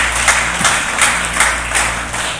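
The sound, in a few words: congregation applauding the Lord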